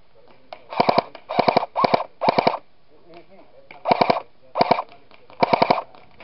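Airsoft guns, including an MP5K-style Galaxy replica, fire outdoors during a game in bursts of rapid full-auto clatter, about eight short volleys spaced across the clip, sharp and close, with players talking between them.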